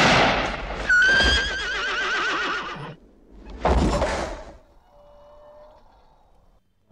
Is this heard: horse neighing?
yes